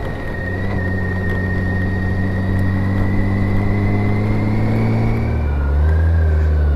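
A motorcycle carrying two riders accelerates smoothly on the road, its engine tone rising and shifting steadily under continuous loud wind and road noise.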